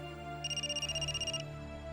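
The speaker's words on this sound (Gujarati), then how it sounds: "મારો ફોન વાગે છે કિંજલ." A mobile phone ringtone trills rapidly and fairly faintly for about a second over a steady low background hum, with no one speaking.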